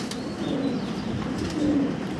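Belgian racer pigeons cooing nearby: a couple of low, soft throaty coos over a steady murmur of birds, with no talking.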